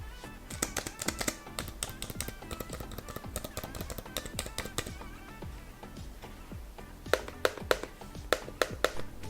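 Fingers type on a Samsung Book Cover Keyboard attached to a tablet, giving rapid close clicks in bursts and then a pause before a final run of sharper taps.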